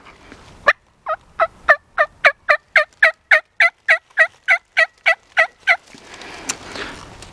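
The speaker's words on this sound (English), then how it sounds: "If he gobbles, then, you know, just keep yelping." A wild turkey gobbler gobbles in a rapid series of about sixteen sharp, evenly spaced calls, loud and close, followed by a short stretch of faint background noise.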